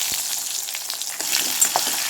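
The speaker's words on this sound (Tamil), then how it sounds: "இப்போ கொஞ்சம் வரமிளகா 2 வரமிளகா சேர்த்து வச்சு இப்போ நம்ம வெள்ளைப்பூடு சேர்த்துக்கலாம்" Two dried red chillies and garlic frying in hot oil for a tempering, a dense, continuous close sizzle with small crackling bursts, no talking.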